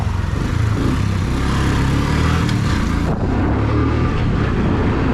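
Bajaj CT100 100cc motorcycle riding along, a steady engine drone with wind noise that swells as it accelerates, continuous and close, with no talking.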